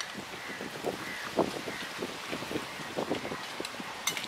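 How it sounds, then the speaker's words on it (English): Blustery wind buffets the microphone outdoors, a steady low rumble with irregular gusty bursts and crackles; no one speaks. "It's windy here outside."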